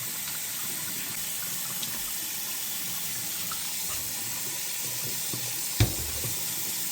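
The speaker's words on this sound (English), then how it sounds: "I'm going to rinse it all off with nice warm water" Warm water runs steadily as ATV parts on a Yamaha YFZ450R are rinsed off after a ride, a soft continuous hiss with one brief louder splash or clunk near the end, no talking.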